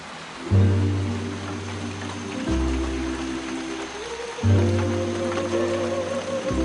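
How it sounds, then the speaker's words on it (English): Steady rain hisses across the whole clip, with a low droning hum swelling and dropping in repeated pulses underneath. "Today is the 14th consecutive day of rain."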